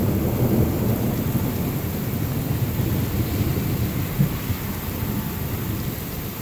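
Thunder rolls in a long low rumble through heavy rain in Los Banos, California, with the downpour hissing steadily throughout at close range and no talking.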